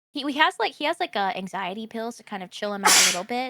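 A single sharp sneeze bursts out near the end of a stretch of casual conversation, loud and close, mixed in with the talking.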